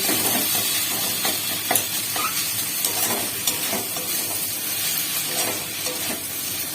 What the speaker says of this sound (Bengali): কড়াইতে পেঁয়াজ রসুন আর আদা সুন্দর করে ফ্রাই করে নিচ্ছি